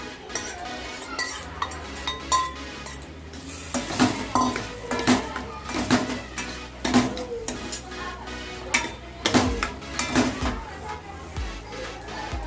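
Soybeans stirred through a spiced masala in a pan for a soybean dal sabji, with repeated spoon scrapes and clinks against the metal and a soft sizzle underneath, steady and close throughout.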